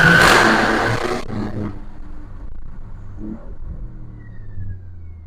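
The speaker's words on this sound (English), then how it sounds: "As you can hear, the car is downshifting itself, and it really makes nice sounds." A fast, loud car with traction control off downshifting on its own, a loud roaring exhaust burst that cuts off after about a second, followed by a low lingering rumble and faint burbles.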